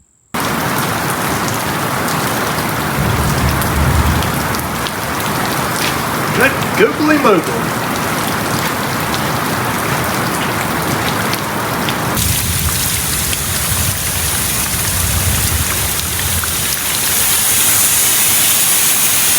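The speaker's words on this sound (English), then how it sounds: "let's get this put inside before the rain comes and before I get struck by lightning" Heavy rain pours steadily outside a shop during a thunderstorm. It hisses loudly throughout, the roar grows harsher in the second half, and a man briefly exclaims over it.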